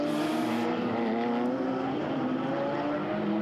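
A Porsche GT3 Cup race car at Spa, the car of Rivas, drones steadily close by, its engine note a sustained loud roar that holds level without a clear pass-by.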